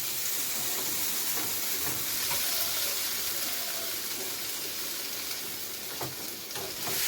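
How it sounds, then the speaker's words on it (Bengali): Spice paste (masala) fries steadily on low heat in a pan for a raw jackfruit and small prawn dish, a continuous close hiss with a few faint stirring clicks and no talking. "একটু সিম করে দেবেন আঁচটাকে, দিয়ে এটাকে ভালো করে ফ্রাই করবেন।"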